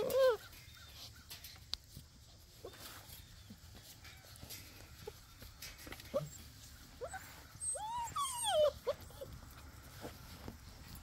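Puppies whimper and yelp in short, high-pitched bursts, scattered across the clip and fairly faint, with a denser cluster of cries toward the end.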